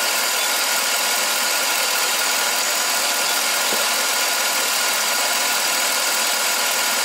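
A Chevy Tahoe engine idles with a misfire on cylinder five, heard as a steady close mechanical drone with faint uneven pulsing and one brief tick partway through.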